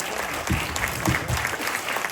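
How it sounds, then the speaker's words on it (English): An audience claps for the host school team at an international quiz contest, a short burst of steady, moderately loud applause filling the room with no talking over it. "So round of applause for them, the host team"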